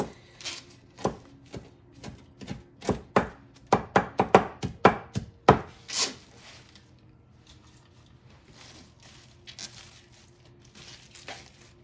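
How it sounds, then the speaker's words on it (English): Knife chopping kale on a cutting board, a run of sharp crisp cuts in quick uneven rhythm close up, then a quieter stretch of soft scattered taps and rustling leaves. "So we're cutting up our kale"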